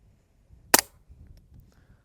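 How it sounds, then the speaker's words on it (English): A single sharp crack from a suppressed Ruger Mk3 .22 pistol firing subsonic ammunition through a Dead Air Mask suppressor, brief and close, followed by near silence. "It still has the dead air mask on there, and we are shooting subsonic ammunition."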